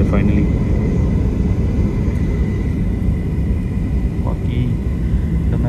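Passenger jet airplane beginning its takeoff roll on a domestic flight in Canada, heard from the cabin as a continuous loud engine rumble and roar that holds steady throughout, with voices talking over it.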